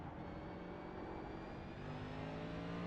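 A race car engine in the iRacing NASCAR series at Sonoma, a continuous droning, rising engine note held steadily throughout at moderate, fairly faint level with no talking.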